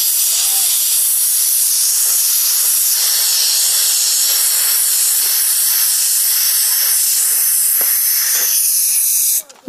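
A pressure cooker cooking lentils lets out a loud, sustained steam whistle, a harsh continuous hiss right up close that runs unbroken and then cuts off abruptly at the end.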